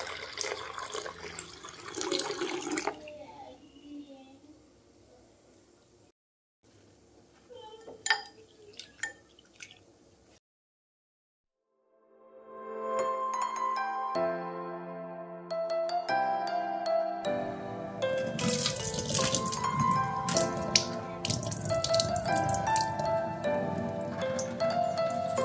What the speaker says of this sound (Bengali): প্রথমে জল দিয়ে পরিষ্কার করে ধুয়ে নেব।